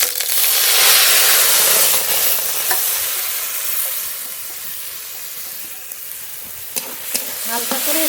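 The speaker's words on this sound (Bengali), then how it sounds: "একটু ভেজে নেব ডালটা হালকা করে একটু ভেজে নিয়েছি" Red lentils frying in hot mustard oil in a wok give a loud, continuous close-up sizzle and hiss that eases slightly over time, with occasional spoon scrapes and clinks near the end.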